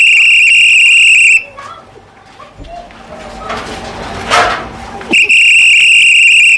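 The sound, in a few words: whistle blowing for door-to-door garbage collection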